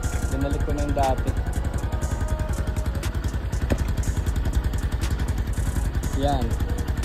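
A motorcycle fitted with its original stock exhaust pipe idles nearby, a low, even chugging pulse that runs throughout, with brief voices heard twice over it.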